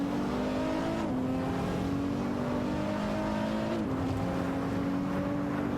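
Video game race with GT3-class cars such as an Alpina B6 GT3 and an SCG 003C battling for position, engines droning steadily with repeated gear-shift dips in pitch and revs climbing again, continuous and mid-distance with no voices.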